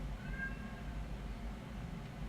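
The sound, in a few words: cat meowing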